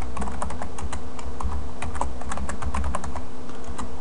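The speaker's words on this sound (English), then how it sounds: "Type in a password." A computer keyboard is typed on quickly at close range, with crisp irregular key clicks for about four seconds while a password is entered during a WordPress install on Ubuntu 10.10, with no talking.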